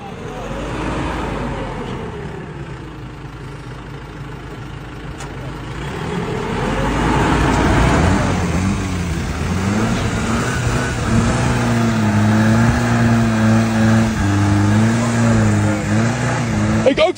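A Volkswagen Amarok's engine revs and rumbles loudly, swelling midway into a sustained droning roar with rising and falling pitch, while people talk and shout over it.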